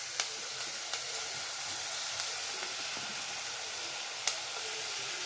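Onions sizzling with salt in a pan on the stove for a prawn and dry fish thokku, giving a steady close hiss with a few faint pops and clicks and no talking.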